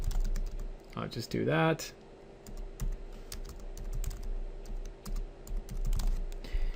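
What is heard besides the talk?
typing on a computer keyboard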